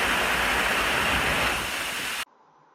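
A small creek near San Cipriano, Colombia rushes in a constant, loud broadband roar of flowing water close by, then cuts off abruptly into near silence.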